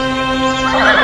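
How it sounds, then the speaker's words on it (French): A horse neighs as it rears, one loud whinny heard alone, rising in strength toward its end. "je fais cabrer le cheval et je repars au galop vers la plaine"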